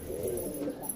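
Caged pigeons softly cooing in a loft, a low continuous murmur of coos throughout a brief moment, fairly near and steady.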